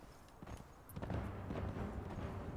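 Rhythmic hoofbeats of a ridden horse in Conan Exiles, a steady clip-clop pattern building after a brief quieter start, moderately close under a soft outdoor bed.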